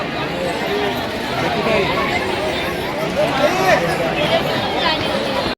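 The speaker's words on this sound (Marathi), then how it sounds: "बघू शकता गर्दी गर्दी बघू शकता किती आहे" Dense crowd babble fills a Sai Baba palkhi procession feast in Pen, a loud, steady hubbub of many overlapping voices with a nearby speaker on top.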